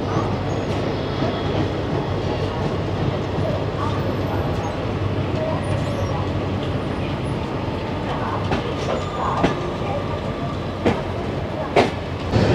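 The Ernakulam–Hazrat Nizamuddin Mangala Express passenger train rolling along the rails, heard from on board as a steady loud rumble with rhythmic wheel clatter and occasional clanks, while someone talks over it.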